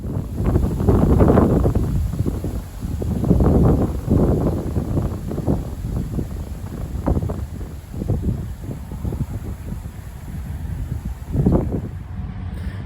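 Wind gusting on a cold, wet day, heavy low buffeting against the microphone in rising and falling surges, loud and close with no talking.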